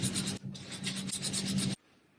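Hands scrubbing shampoo into wet hair make a close, steady wet rubbing and rasping for nearly two seconds, with a brief dip partway through, then stop abruptly.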